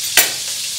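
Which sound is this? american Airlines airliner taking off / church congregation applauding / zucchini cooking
zucchini cooking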